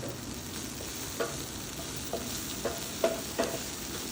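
A tomato and spice mixture roasts in a pan for paneer bhaji with a soft, continuous sizzle. A few light scraping stirs stand out now and then.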